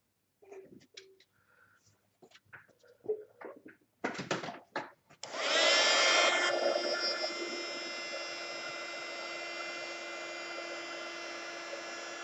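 An embossing heat tool switches on and blows a steady, loud whirring hiss while melting embossing powder on a stamped card, following a few soft handling clicks and taps.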